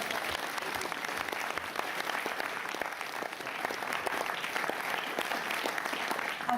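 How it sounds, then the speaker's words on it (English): An audience at a school celebration evening claps steadily and evenly for several seconds, dense and continuous at moderate volume with no talking over it. "Give them a round of applause."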